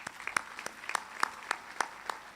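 Quiet, evenly spaced claps from the audience at an Excelsior Community College graduation ceremony, class of 2022, a thin steady patter of individual handclaps with no talking.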